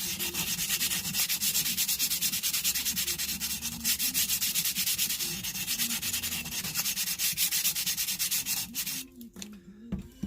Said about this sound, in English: squirt the WD-40 on the sandpaper, and you can actually work